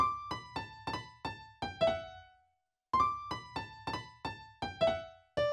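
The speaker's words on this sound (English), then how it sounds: "this little piano solo, pretty much a lead pattern, and I literally used FL keys" A repetitive piano lead pattern played on the FL Keys plugin in FL Studio: crisp, evenly spaced single notes in two phrases separated by a short pause, each note decaying quickly, with no other sound.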